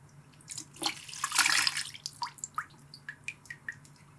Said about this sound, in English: now I'm just going to rinse this off a little bit